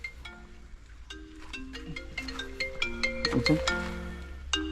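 A phone ringtone plays a bright electronic melody of quick tones and chimes, moderately loud over a steady low engine-like hum.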